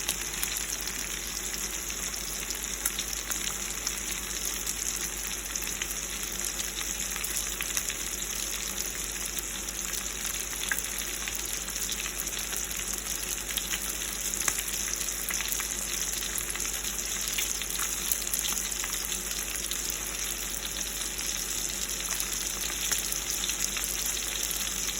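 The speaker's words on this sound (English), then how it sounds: "here's the pancetta cooking over here for my peas and my Parmesan cheese." Pancetta frying in a pan, a continuous close sizzle and crackle that holds steady for the whole stretch, even and moderately loud with no talking.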